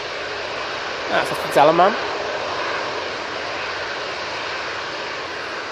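An EasyJet Airbus A321neo on its takeoff roll at Manchester Airport gives a steady, moderate jet rumble in the distance, while someone speaks briefly near the start.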